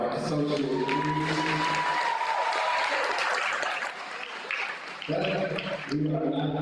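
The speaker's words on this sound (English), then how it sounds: "Clap it up for all of our associate degrees." An audience at an academic excellence ceremony applauds associate degree graduates, sustained clapping and some crowd noise under a voice speaking over it, fading briefly before the voice returns clearly near the end.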